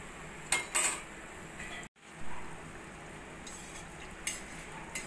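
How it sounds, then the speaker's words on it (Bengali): Malpua batter cakes frying in hot oil in a pan and being turned one by one, with soft sizzling under scattered metal clinks and scrapes of a utensil against the pan, close and moderately loud. "এইভাবে উল্টে পাল্টে সোনালি করে আমি একটা একটা করে মালপোয়াগুলো ভেজে নেব।"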